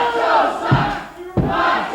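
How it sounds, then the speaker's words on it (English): A wrestling arena crowd chants that Macho sucks, a loud massed roar of voices with rising shouted surges, filling the space continuously and close. "Now the crowd proclaiming that Macho sucks."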